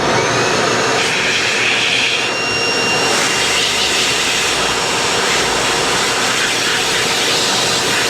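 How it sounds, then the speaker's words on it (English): A B-Air Bear Power dog dryer roars steadily and loudly throughout, blowing leftover water out of filters in a constant rushing stream of air with no breaks. "This is the B-Air Bear Power dryer. So we're going to use it to blow the rest of the water out"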